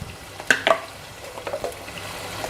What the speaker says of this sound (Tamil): அதையும் சேர்த்துட்டு நல்லா பச்சை வாசனை போகிற வரைக்கும் வதக்கணும்.